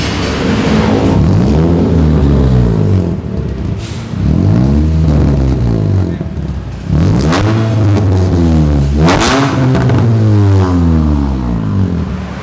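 A modified Honda Brio's exhaust revs repeatedly in long rising and falling sweeps, deep and bassy, loud and close throughout.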